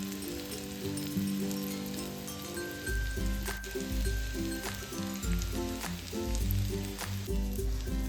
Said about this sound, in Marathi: आता दुसऱ्या बाजूने आपण त्यांना शिजवून घेऊयात.